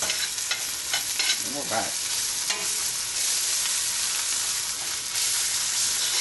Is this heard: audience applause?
no